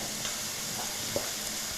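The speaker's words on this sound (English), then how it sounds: "I can hear this like very, very vigorous, fast frying noise." Steady, vigorous sizzling of beef frying in hot oil in a pot, a dense continuous crackle with occasional pops, no voices.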